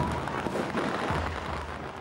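Firecrackers pop at the start of a dragon boat race in China, giving fairly faint, scattered crackling over a busy outdoor crowd din.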